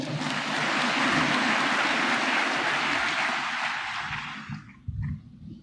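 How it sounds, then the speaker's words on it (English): A large audience gives a guest of honor a round of applause at a formal presidential event. The broad wash of clapping holds steady, then fades out over the last second or so, leaving a few scattered claps and faint room noise. "May we please give the special guest of honor a round of applause."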